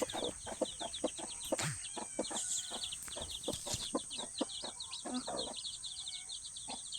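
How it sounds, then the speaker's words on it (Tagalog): A hen with newly hatched chicks on a farm makes low clucks amid many rapid, high chirps from the chicks, with a persistent high hiss of insects or background noise behind. "Lumabas na yung mga sisiw niya."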